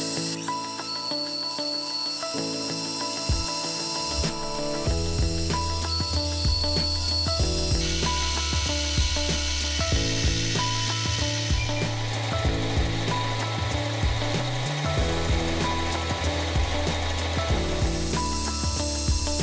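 A metal lathe in a home machine shop trims excess stock and cuts a tapered profile on a clamping tool part, giving a continuous whirring, chattering machining noise with shifting tones and rhythmic clicks throughout.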